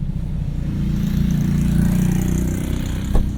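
A 2022 Hyundai Kona N sits idling nearby, its exhaust giving a steady, low, even rumble with a slight swell midway and a brief click near the end.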